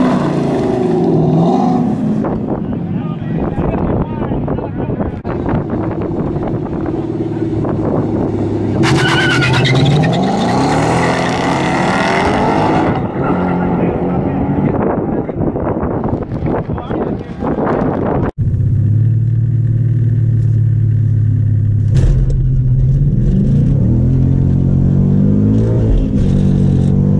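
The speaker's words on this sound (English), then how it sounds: "my car is not getting traction at all" A Mustang GT engine roars and revs hard as its tires spin without traction, with a loud sustained drone, rising pitch sweeps and wind buffeting on the microphone, while a voice talks over it.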